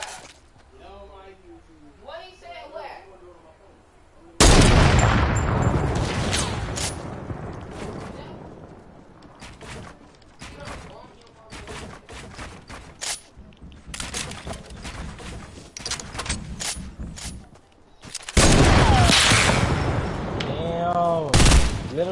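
Fortnite sniper and gunfire in a video game: several bursts of loud, dense shooting and explosive impacts spread across the clip, with talking voices in between and over the action.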